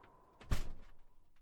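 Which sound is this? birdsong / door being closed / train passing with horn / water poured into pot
door being closed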